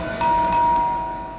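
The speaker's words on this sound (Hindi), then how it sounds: "आज तो लगता है घंटी खराब करके छोड़ेंगे।" A loud electronic ding-dong doorbell chime rings indoors, struck twice in quick succession, and its bright tones ring on and fade.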